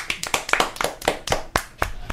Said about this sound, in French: applaudit Marc.